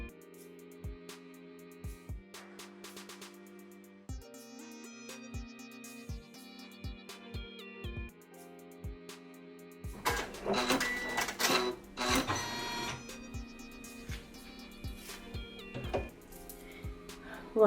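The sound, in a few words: embroidery machine sewing a tack down stitch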